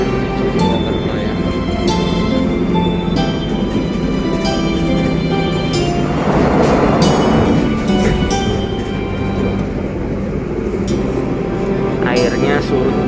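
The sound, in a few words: Argo Lawu passenger train travelling on rails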